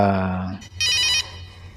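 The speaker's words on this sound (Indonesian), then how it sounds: "terdengar telepon dari Andrew, mantan suaminya" In the horror film The Possession of Hannah Grace, a telephone gives one short, bright ring right after a voice and a low background tone.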